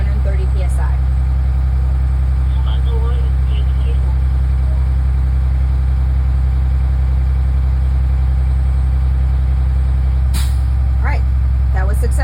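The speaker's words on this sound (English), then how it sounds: "the bus filled up with air, then we'll turn back on the high idle" A bus engine holds a steady high idle while the air system builds pressure toward the governor cut-out, a loud, deep continuous drone with a couple of brief sharp air hisses and clicks over it.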